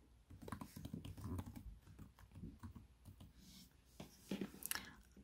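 Keys on a Chromebook keyboard are tapped in quick, uneven bursts as an email address is entered, producing close, soft plastic clicks with brief pauses between runs.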